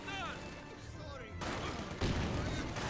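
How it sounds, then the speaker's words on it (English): A frag grenade explodes in Company of Heroes 2, with a sharp blast followed by a second noisy burst of battle sound, heard under a caster's talk. "Frag grenade was unsuccessful."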